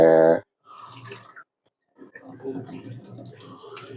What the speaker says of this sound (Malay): Saya toskan dulu air beras sekejap.